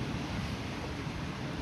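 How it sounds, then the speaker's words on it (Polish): Sea waves wash in a steady, continuous rush at the shore, a dense even roar with no distinct breaks and no voices. "Będzie słychać tylko morze."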